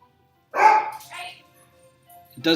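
A few sharp dog barks ring out close by, separated by short pauses, with a final burst at the end.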